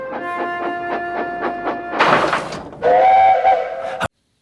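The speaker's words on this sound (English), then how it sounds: "That sounds like Toby's whistle from that one episode where he, got a steam whistle" Steam engine whistle from the Thomas and Friends pilot, a series of short repeated toots followed by a hiss of steam and a longer held whistle that cuts off abruptly.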